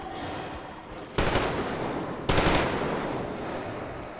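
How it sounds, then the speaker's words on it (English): Gunfire from a silenced assault rifle in the video game Metro Exodus comes as two distinct bursts of rapid shots, sharp and fairly loud, with a quieter lingering rumble between and after them. "I think her assault rifle is silenced"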